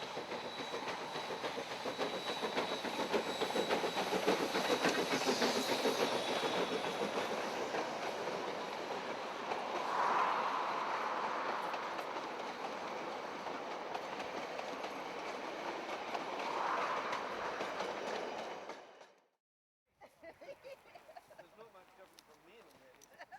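A train rolls steadily along the rails with a loud, continuous rumble and clatter, then cuts off abruptly near the end, leaving a quieter background.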